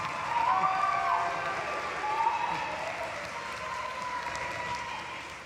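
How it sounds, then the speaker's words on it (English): Audience applause fills a graduation commencement in an arena, a broad steady wash of clapping that holds for several seconds and then slowly thins out, with a faint voice carrying over the crowd. "give them a wave, and a thankful round of applause"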